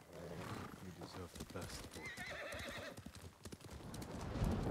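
Horse hooves clip-clopping at a steady trot in Ghost of Tsushima, continuous under someone speaking Hungarian, with a horse neigh and game ambience mixed in.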